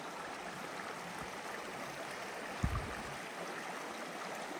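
A creek in Shenandoah National Park rushes steadily on a spring mountain hike, a dense, even wash of flowing water close by with one brief knock partway through.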